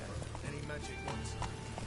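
The horse Roach gallops in The Witcher 3, a rapid clip-clop of hooves over steady game ambience, with a voice talking over it.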